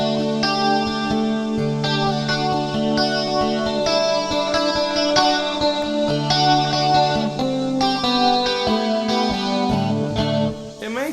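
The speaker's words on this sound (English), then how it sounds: "an envelope filter, some compression, it has a stereo chorus, and then an acoustic simulator all added together" Guitar, likely a Strat, played through an envelope filter, compression, stereo chorus and acoustic simulator, ringing strummed chords and picked notes with a shimmering, doubled tone, steady and close with a faint hiss underneath.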